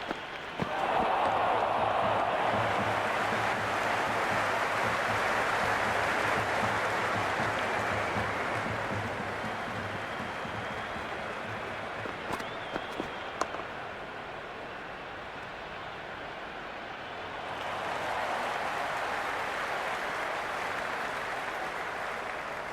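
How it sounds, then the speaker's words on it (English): Dense, roaring stadium crowd at a CSK vs MI cricket match, a sustained wash of cheering and noise that swells, dips briefly in the middle, then rises again, with a few sharp claps poking through. "It's evident and ever so audible that the crowd is at near bursting point at today's play."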